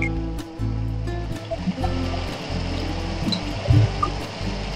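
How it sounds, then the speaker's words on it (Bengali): Water used to rinse ground spices is poured into a pan of cooked-down masala for a fish curry, producing a continuous rushing, splashing pour that runs steadily for the whole stretch. "এবার এতে আর একটু মশলা ধোয়া জলটা দিয়ে দেওয়া হলো"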